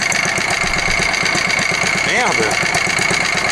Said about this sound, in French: T'y crois ça, une Bernard qui tourne au ralenti?